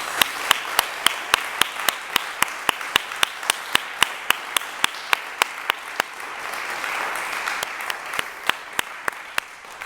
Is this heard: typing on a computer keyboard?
no